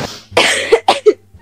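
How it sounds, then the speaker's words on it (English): A sick woman coughs several times in a short, loud burst of separate hacks, close to the microphone with no talking. "I'm coughing as well."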